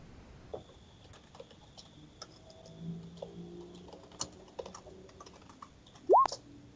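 Scattered soft keystrokes of typing on a computer keyboard come and go quietly through a room, with a brief faint rising tone near the end and no one talking.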